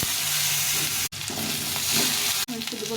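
Dried red chillies and cumin fry in a hot pan with a loud, steady, close-up sizzle that continues with only two brief momentary dropouts.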